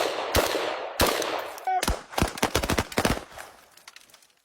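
Video game gunfire set off by a trigger press, a run of sharp, loud shots, a few spaced single cracks followed by a rapid burst that trails off.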